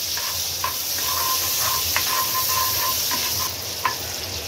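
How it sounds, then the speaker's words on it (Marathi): Butter melting in a pan on the stove gives a steady, close hiss and sizzle, with a few light utensil clicks and stirs scattered through, and no one talking. "बटर आता आपला मेल्ट होत आलाय।"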